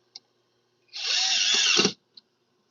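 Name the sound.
power drill driving self-driving screws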